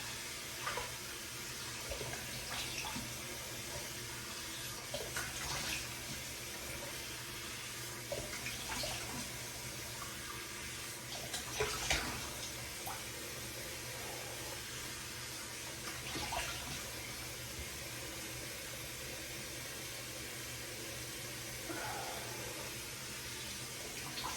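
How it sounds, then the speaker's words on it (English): Hot water runs and splashes in a bathroom sink while someone wets their face for shaving, a steady close rushing stream with occasional louder splashes and no talking. "we got some hot water. Let's splash that on my face."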